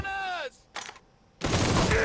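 Gunfire in the Mafia 3 video game on PS4: sharp, loud bursts of shots broken by brief pauses, following a drawn-out vocal groan at the start.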